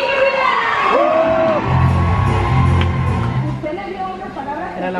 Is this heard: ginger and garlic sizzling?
no